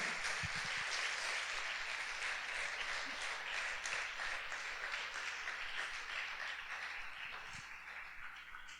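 A church congregation applauds in a steady, dense wash of clapping that stays fairly soft and distant and slowly tapers off toward the end.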